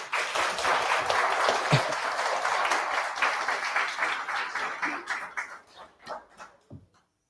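Loud applause from a church congregation, dense at first, then breaking into scattered individual claps that taper off into silence.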